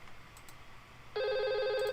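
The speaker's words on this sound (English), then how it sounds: "Hey, we're ringing now." A phone rings on a test call in a network lab: a bright, warbling electronic ring starts partway in and holds steady, clear and close, with faint clicks before it.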